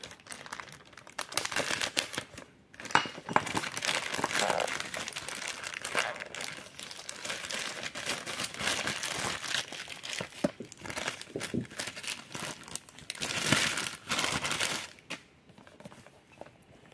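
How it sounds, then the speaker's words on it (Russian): Packaging for a Xiaomi Redmi smartwatch crinkles and rustles continuously during unboxing, with plastic and cardboard crackles and brief tearing, close up and fairly steady, pausing briefly near the start and end. "Распаковка."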